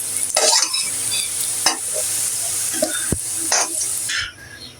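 Pieces of taro fry in hot oil in a pan with a steady sizzle, broken by several scraping stirs and a sharp utensil knock on the pan.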